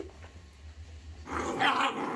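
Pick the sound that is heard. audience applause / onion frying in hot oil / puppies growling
puppies growling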